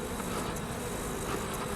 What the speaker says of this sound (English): Look at all of our bees. They are doing so great.